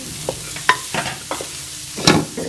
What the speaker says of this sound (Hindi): चनों को भी जो है वो अच्छी तरह से मिक्स कर लेंगे